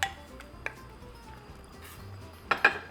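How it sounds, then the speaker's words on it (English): A spoon knocks against a soup pot as it is stirred and shrimp shells go in, giving a few sharp metallic clinks near the end over a quiet kitchen background. "Okay, so we're gonna give this a stir. Add our shrimp shells."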